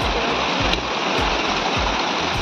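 A mountain stream on the Kedarnath trek rushes loud and close, a steady broadband roar of flowing water with faint recurring low gurgles, heard alone without speech.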